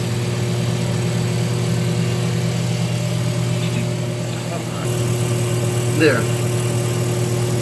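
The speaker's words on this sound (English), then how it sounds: "The motor's spinning, but the belt is not." A GE washer motor spinning while the belt stays still, a steady droning hum with a constant tone that runs throughout, with a brief spoken word partway through.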